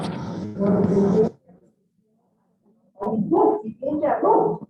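A dog barks repeatedly during a church video call, loud, close bursts in two clusters with a quiet gap between them, mixed in with people talking over the line.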